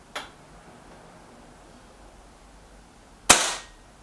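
A Reximex Accura Walnut air rifle fires a single sharp crack with a short tail late in the clip, preceded by a fainter click near the start, in otherwise quiet surroundings.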